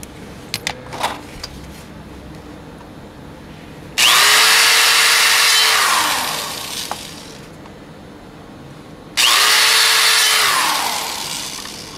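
A power drill bores holes during an HHO system install, with two loud bursts of high-pitched whirring, each falling in pitch as it slows. Quiet gaps and a few clicks separate the bursts.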